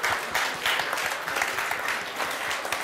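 An audience at a talk applauding the speakers, a lively close stretch of many hands clapping with uneven swells, lasting a few seconds with no voices over it.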